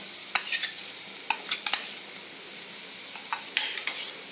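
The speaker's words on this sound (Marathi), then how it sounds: "त्याच्यात हा धुतलेला कोळंब हा परतवून घ्यायचा चांगला।" Washed small shrimp (jawla) sauté with turmeric and spices in a pan: a soft steady sizzle broken by scattered sharp clicks and scrapes of a spoon stirring against the metal, close and fairly quiet.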